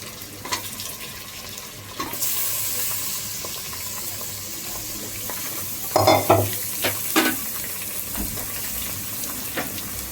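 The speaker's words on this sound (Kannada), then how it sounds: "ಇವಾಗ ಇದಕ್ಕೆ ನಾನು ಚಿಕನ್ ಹಾಕೋತಾ ಇದ್ದೀನಿ." Chicken added to onions fried light brown in a pan: a steady sizzle with close scraping stir strokes that grow louder in a short burst about midway. No one talks.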